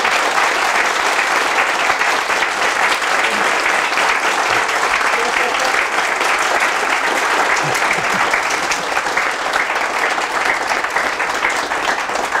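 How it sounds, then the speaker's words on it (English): A keynote audience at Vintage Computer Festival East gives Brian Kernighan a long, even round of applause, a thick continuous clatter of many hands filling the hall at full strength. "a big round of applause for Brian."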